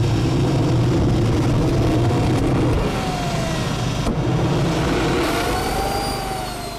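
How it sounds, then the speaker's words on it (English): A homemade jet engine built from a fire extinguisher runs with a loud, steady broadband roar and a rising whine, close and continuous throughout, no voices. "Now that is sounding more like a jet engine."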